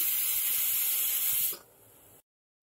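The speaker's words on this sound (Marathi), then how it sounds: "मग कुकरचं झाकण लावून चांगल्या मस्तपैकी 3 शिट्ट्या काढायच्या आहेत आपल्याला।" A pressure cooker cooking rajma whistles with a loud, steady hiss of escaping steam for about a second and a half, then drops to a fainter hiss before stopping.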